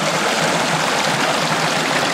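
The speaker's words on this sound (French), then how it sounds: "Joli petit ruisseau sur lequel il y a une cascade" Small stream with a waterfall, the Ruisseau du Pic on a hiking trail in the Creuse, makes a steady, close rush of flowing water that runs without a break.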